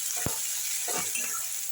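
Ginger and cumin paste frying in a pan, a steady soft sizzle with a single sharp utensil knock near the start and a few faint scraping stirs later.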